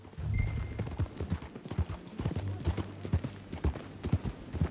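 Several horses gallop in Red Dead Redemption 2, their hooves pounding in a fast, continuous drumming that sounds close and fairly loud, with a low rumble beneath.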